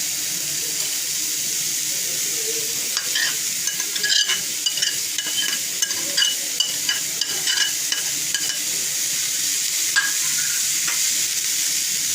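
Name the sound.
stir-frying vermicelli in a pan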